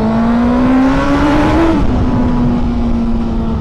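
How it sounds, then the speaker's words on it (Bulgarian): A loud motorcycle engine on a ride through rapeseed fields, running steadily close by with a rising then falling tone as it revs up around the midpoint and settles back, no talking. "Един човек да има с шумен мотор като мене."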